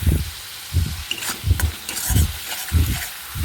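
Green chili and ginger paste frying in a pan while being stirred, heard as rhythmic scraping strokes roughly every three-quarters of a second over a soft sizzle, close and fairly loud.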